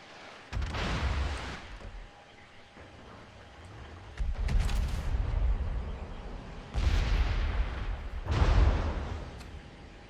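Naval guns firing in World of Warships, with three heavy broadband booms arriving a couple of seconds apart, each rolling off into a low rumble under a faint steady tone.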